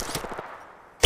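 Gunfire in the video game Apex Legends: a short rattle of rapid shots fading out, then a sudden loud close shot at the end, with no talk.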